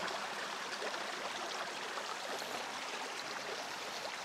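A valley stream flows over smooth rocks, giving a continuous, even rushing babble with no voices.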